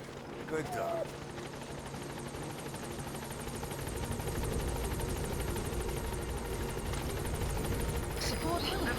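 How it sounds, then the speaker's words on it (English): Helicopter Pequod from the Metal Gear Solid V video game arriving, a steady rotor and engine drone that swells gradually louder over several seconds, with game voices and effects mixed in. "This is helicopter Pequod."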